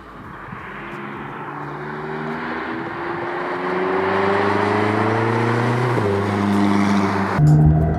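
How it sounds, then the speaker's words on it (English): A McLaren 620R with a carbon fiber roof snorkel air intake accelerates on the road, heard from inside the cabin. Loud, droning engine and intake tones climb steadily in pitch, broken by two quick gear shifts near the end. "we're going to see when driving down how beautiful the air duction noise is going to feel"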